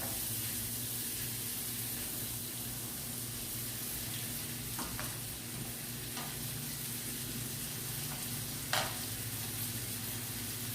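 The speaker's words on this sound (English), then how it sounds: "Cook these onions up." Onions fry in a pan for a Christmas curry dinner with steak and vegetables, giving a loud, continuous sizzle broken by a few soft stirring scrapes and one brief clatter near the end.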